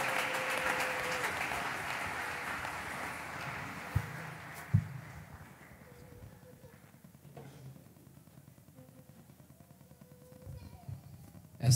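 Church congregation applauding and cheering as a family with four children comes forward, a broad crowd wash loudest at the start then fading under the room's murmur, with a few sharp knocks and voices rising near the end.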